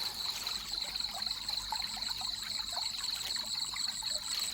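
Water trickling and babbling steadily through a fishing channel, a soft continuous outdoor flow with a faint high insect-like whine above it.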